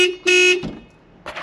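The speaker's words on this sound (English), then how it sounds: "The horn itself is quite quirky, as it's not in the middle of the steering wheel as you'd expect" A 1963 Mini's horn, sounded from a button off the centre of the steering wheel, gives two short, loud, nasal honks, the second longer, followed by a quieter third blip after a pause.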